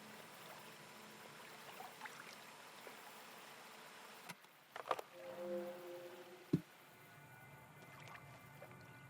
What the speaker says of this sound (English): Let's record the sounds of the water.